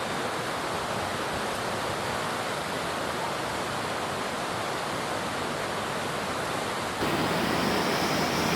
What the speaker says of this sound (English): This is a very powerful river.